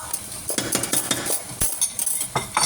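Bacon pieces and mushrooms bubbling in a pan, with crackling sizzle and repeated scrapes and clinks of a utensil stirring against the metal, up close and steady.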